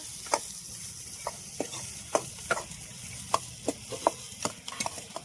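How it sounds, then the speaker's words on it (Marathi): Potato chutney with garam masala sautés in a pan, a steady medium sizzle punctuated by regular sharp spoon taps and scrapes, growing quicker toward the end, with no talking. "आता याच्यावरून टाकू थोडासा गरम मसाला."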